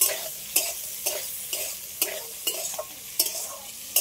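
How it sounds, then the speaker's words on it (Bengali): Capsicum, onion and chopped chili sizzle in a pan as a spatula scrapes through them in a steady rhythm, about two strokes a second, each stroke a crisp close hiss over quiet frying. "আবারও সব একসাথে আর একটু ভালো করে ভেজে নেব।"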